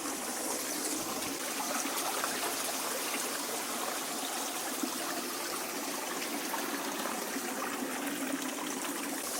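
A small stream runs cool and clear through its riverbed at a rainy campsite in Flå, Norway, giving a steady, close, continuous babble and trickle of water with no talk over it.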